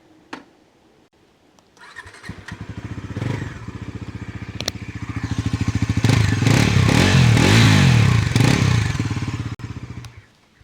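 A Bajaj NS400z motorcycle engine starts with a clatter, idles, then revs up under the throttle into a loud, sustained roar before easing back down, with a brief thump near the end.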